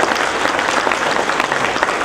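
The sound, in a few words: audience applause for the doctor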